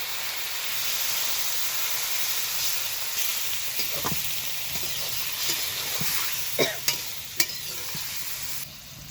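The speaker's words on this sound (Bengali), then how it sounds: "এইভাবে একটু হালকা করে নাড়াচাড়া করে কষিয়ে নেব" Cauliflower curry sizzles steadily in a pan while a spatula stirs it, with a few sharp scrapes and clicks toward the end; no one talks.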